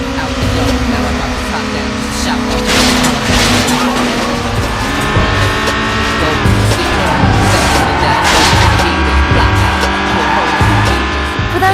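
Street racing cars drifting in the 2003 Need for Speed video game, loud revving engines and squealing tyres under an energetic soundtrack, with someone narrating over them throughout.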